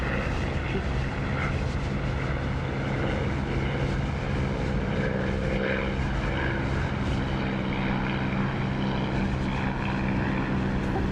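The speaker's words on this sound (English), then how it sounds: "So when you open a canopy, apart from anything else, you get that lovely sound." Aircraft canopy opened in the DCS flight simulator game, filling the cockpit with a loud, constant propeller-engine drone and rushing air that holds steady throughout, no talk.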